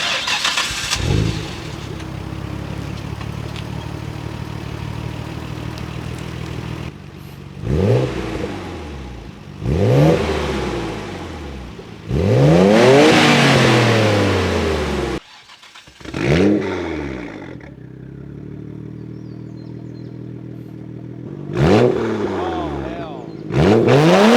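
A Nissan R32 Skyline GTR with a straight-piped Tomei Expreme titanium exhaust starts, then blips through several sharp, loud revs separated by rough idle, each rise and fall clearly audible up close.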